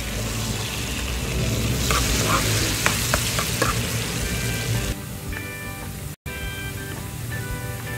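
Garlic fries in a pan, browning toward golden, making a steady close sizzle and crackle that softens partway through, with a few sharp clicks of a utensil.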